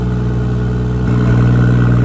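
BMW X3 M40i with an aftermarket Valvetronic exhaust and quad tips, valves closed, holding a loud, steady, muffled engine drone close by with a slight rise in pitch toward the end.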